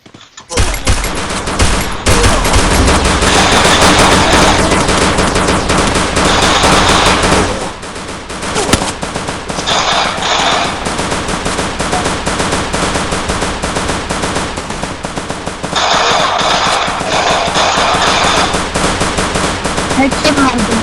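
In the mobile battle royale Garena Free Fire, loud, dense automatic gunfire hammers on almost nonstop in long sustained bursts, broken only by a couple of short pauses.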